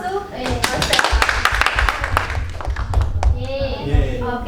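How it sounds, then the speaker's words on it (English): Classroom applause as students and teacher clap for themselves during a microteaching lesson, brisk uneven clapping from a small group mixed with voices and cheers. "Give applause to ourselves."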